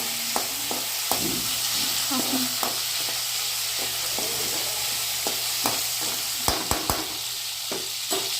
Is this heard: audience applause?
no